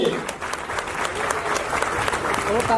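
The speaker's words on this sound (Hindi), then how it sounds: "जो तालियां हो जाए, तालियां हो जाए यार" An audience applauds steadily at a Mumbai police award ceremony, a dense, loud wash of clapping throughout with a voice faintly over it.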